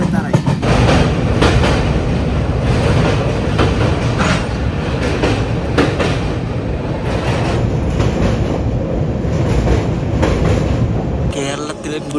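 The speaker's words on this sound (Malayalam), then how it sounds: "കേരളത്തിൽ ഗുഡ്സ് ട്രെയിൻ ഉണ്ട് ഗൈസ്" Train wheels rumble steadily along the rails in Kerala, heard loudly and up close throughout with scattered clacks, where a goods train of BCNA wagons headed by a WDG-type diesel locomotive passes.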